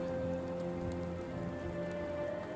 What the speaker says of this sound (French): c'est la neige fondue maintenant, avec de la pluie